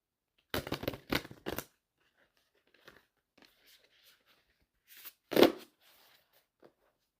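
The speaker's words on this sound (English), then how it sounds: "hold on a second while I go ahead and shuffle those cards" A deck of Rumi Oracle cards being shuffled by hand, close and quiet: a few quick riffling bursts, a pause with faint handling rustles, then one louder shuffle near the end.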